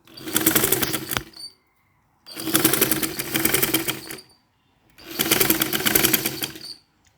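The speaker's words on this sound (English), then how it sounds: "I'm sewing on the back of the fabric" Sewing machine stitching fabric backed with crinoline for ruffle sleeves, three loud close bursts of rapid whirring stitches, each about two seconds long, separated by short silent pauses.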